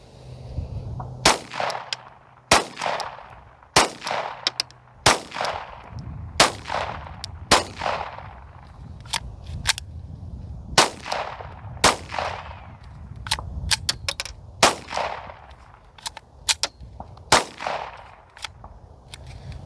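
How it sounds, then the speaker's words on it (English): Ten loud, sharp cracks from an unsuppressed G44 .22 rifle on an outdoor range, fired at a steady, unhurried pace, each shot followed by a short ringing decay. "that was 10 rounds unsuppressed"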